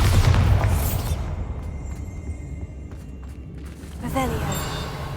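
Bombardo explosion spell in Hogwarts Legacy, a deep booming blast at the start that fades, followed by a smaller burst near the end, with a voice speaking over it.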